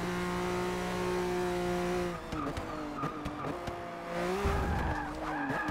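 A race car in Forza Motorsport 6 accelerates with rising engine whine, then its tires squeal and skid in several sharp bursts before the engine revs climb again, loud and close with no talk.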